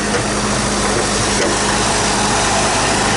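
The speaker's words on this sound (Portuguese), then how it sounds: "A marcha lenta está estabilizada, principalmente depois que a gente trocou os componentes aí da ignição." A 1978 Chevrolet Opala engine idling steadily after its ignition components were replaced, a loud, constant low rumble with no talking.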